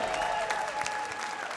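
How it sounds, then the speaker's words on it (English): A live roots music show crowd gives a short, full burst of steady clapping, loud and dense, with faint crowd voices mixed in. "how about a nice round of applause?"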